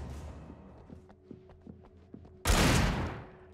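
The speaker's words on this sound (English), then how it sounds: "I thought she was firing at me" Gunfire in Alan Wake Remastered on nightmare difficulty: a sequence of separate sharp shots, followed by a loud, sustained burst of noisy blast that fades slowly.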